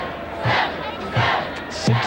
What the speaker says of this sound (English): And the crowd starts to chant 7.